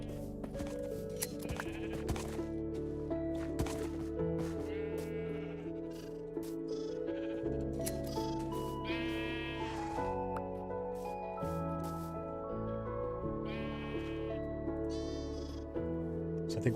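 Sheep bleat repeatedly in Minecraft as they are sheared with shears for wool, the calls rising over a steady layer of background music.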